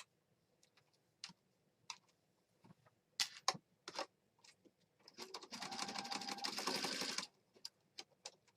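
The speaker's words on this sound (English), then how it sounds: "And then we're going to sew" A sewing machine stitches across the top of a handmade eclectic planner junk journal, a steady close rapid whir of about two seconds set among scattered clicks and handling taps.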